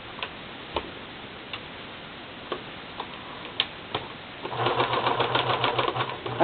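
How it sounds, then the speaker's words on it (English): A home sewing machine that may need oiling stitches a small background piece of fabric, starting up after faint ticking and running steadily and rather loudly for the last couple of seconds. "So I'm just going to go ahead and sew that. Maybe my machine needs oiling."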